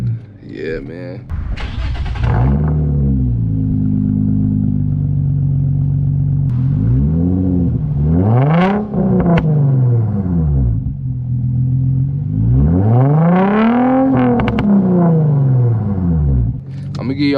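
An Infiniti G35 with its resonator and muffler deleted is revved in several loud, rising and falling bursts, its raspy exhaust roaring up and dropping back to a deep idle, with a man whooping between the revs.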